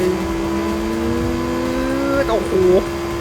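A Lamborghini Sesto Elemento in Forza Horizon 5 runs at high revs in sixth gear, a steady loud engine drone that climbs slowly, then wavers and dips briefly near the end.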